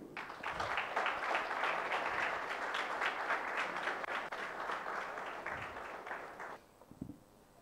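Applause at a project competition prize distribution, a steady patter of many hands clapping in a room that fades out over several seconds, leaving a few last claps and faint noise.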